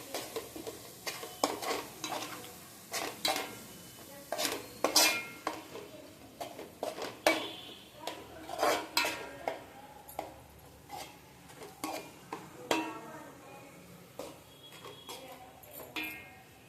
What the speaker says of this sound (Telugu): కారం ఒక 3 స్పూన్లు, 3 స్పూన్లు అన్నమాట వేసుకొని తిప్పుకోవాలి.